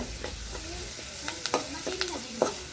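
Fenugreek seeds sizzle steadily in hot oil, a continuous frying hiss broken by a few sharp clinks and scrapes of stirring, close by with no talking.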